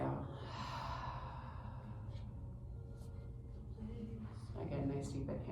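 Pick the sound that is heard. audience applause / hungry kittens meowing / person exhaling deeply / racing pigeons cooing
person exhaling deeply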